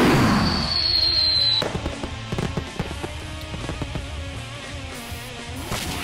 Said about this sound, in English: So you can see what fireworks does again.